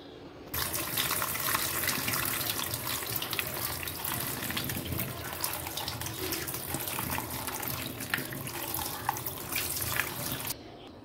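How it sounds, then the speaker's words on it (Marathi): Water runs steadily from a tap into a basin, with splashing and sloshing as raw mangoes are rinsed under the stream for about ten seconds. "तर प्रथम आपण ह्या कैऱ्या स्वच्छ धुवून घेऊ।"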